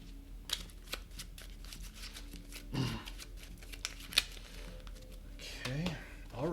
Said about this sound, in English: Shuffle the hit location deck because we forgot to do that at the beginning of the monster's turn.